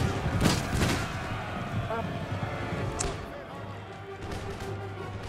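Musket volleys and artillery fire ring out in an Empire Total War river battle against the Ottomans, with sharp broadband cracks near the start and scattered distant shots after, over a steady rumbling battle bed while a voice talks.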